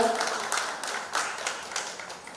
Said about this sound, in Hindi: मेरे साथ अभिनंदन किया जाए जोरदार तालियों के साथ